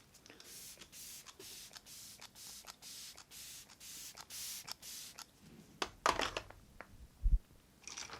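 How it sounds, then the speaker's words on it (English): Facial setting spray is misted onto a face in a quick series of short, close, soft hissing spritzes, followed by a few faint handling noises. "I'm going to spray my face again."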